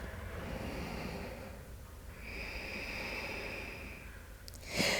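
Slow, deep yoga breaths, a long audible exhale followed by another drawn-out breath, ending in a sharp quick sniff or snort; quiet and close, no speech.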